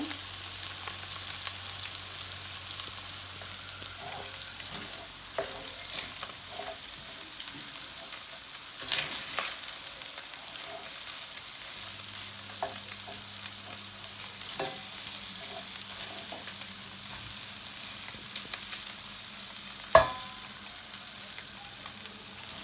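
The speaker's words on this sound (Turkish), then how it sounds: "Bir tereyağı da kavurduk ki daha lezzetli olsun diye" Butter sautéing in a pan while cooking maqluba gives a low, steady background fry with scattered stirring scrapes and a few sharp utensil knocks, one louder near the end. No one speaks.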